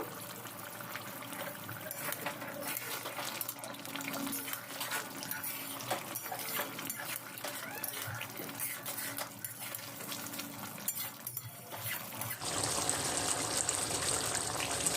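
Water is poured into a pot of Bengali chicken curry, a faint, continuous wet rush and stirring slosh close by that swells into a brighter splash near the end, with no speech.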